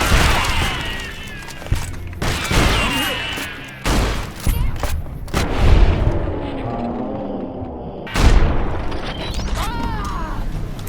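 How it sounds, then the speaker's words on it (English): Energy weapons firing at a caravan in the video game Fallout New Vegas: a few loud booming blasts with ringing, whooshing tails, spread irregularly across the stretch and mixed with mechanical game sounds. "More energy weapons hit this caravan."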